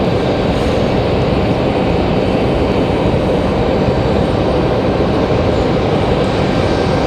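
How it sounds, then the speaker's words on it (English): An ATR 42 turboprop airliner at Raleigh-Durham International Airport, heard as a steady, loud, broadband roar that holds without a break, with no talking. "There's our ATR 42 from Wilmington."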